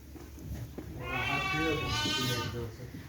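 A sheep bleats in a long wavering cry, close and fairly loud, with some rustling and handling noise around it.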